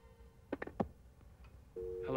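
A telephone busy tone follows a call in a dramatized mystery-call story. A few short voice-like sounds come first, then a steady, moderately loud tone starts near the end and holds.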